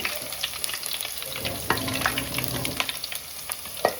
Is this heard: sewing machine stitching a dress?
no